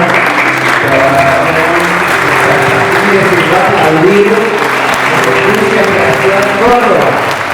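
A church congregation gives sustained, loud applause in honour of God, a dense, continuous roar of clapping from many hands, with voices murmuring beneath it.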